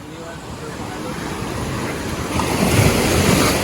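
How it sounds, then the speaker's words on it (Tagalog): Strong ocean waves wash and roll near an island, a broad steady surf roar with wind buffeting the microphone, swelling slightly louder toward the end. "Pero mas malakas yung alon."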